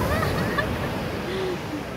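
Big ocean waves surge and break on the shore at Noja, Cantabria, a loud, continuous roar of surf with gusty wind noise throughout.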